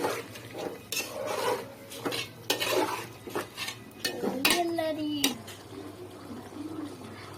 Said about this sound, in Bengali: আমি আরেকটু নেড়ে চেড়ে নেব তরকারিটা